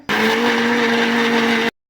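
A mixer grinder grinding curry leaves without water whirs steadily at high speed for about a second and a half, a loud continuous motor drone that cuts off abruptly.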